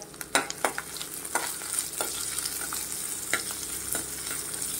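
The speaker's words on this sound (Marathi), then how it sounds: "तर कांदा आपण चांगला भाजून घेऊया" Onion frying in a pan for sambar, a steady close sizzle broken by several sharp scraping stirs of a spatula, no voices.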